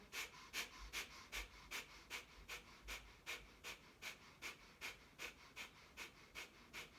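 Rapid breath of fire in a Kundalini yoga practice: quick, rhythmic forceful exhalations through the nose, about two per second, close and steady with no talking.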